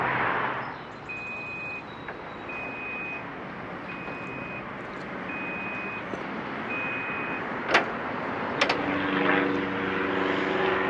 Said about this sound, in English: We'll go ahead and lift up that, or raise the tailgate. It is power closing as well